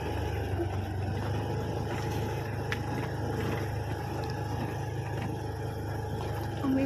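A new scooter engine runs steadily at idle outdoors, giving a continuous low drone with a faint broadband hiss, moderately quiet, without talk.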